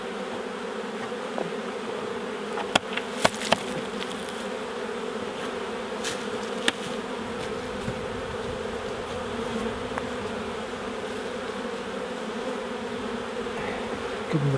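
Honey bees buzz steadily around an opened beehive during a UK beekeeping inspection, a continuous droning hum with a few sharp knocks and clicks of equipment partway through, no talking.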